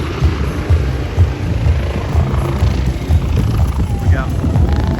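A Cal Fire aircraft passes overhead at a rain-soaked air and car show, its deep rotor-like throbbing droning steadily at moderate distance while people talk nearby.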